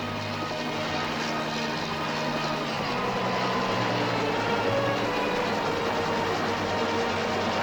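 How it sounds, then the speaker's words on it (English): A helicopter arriving on Margarita Island in the Caribbean, a steady loud rotor and engine drone with a broad hum that holds throughout, without speech. "the arrival of a helicopter is an event which brings out the whole population of the island."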